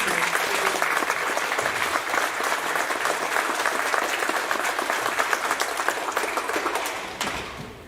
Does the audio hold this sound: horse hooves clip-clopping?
no